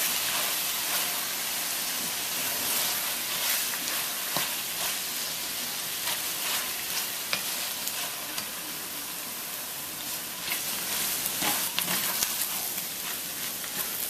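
Flour cooking down in a hot pan for shepherd's pie gives a steady, dense sizzle that holds at an even level throughout, with occasional faint stirring clicks and no talking.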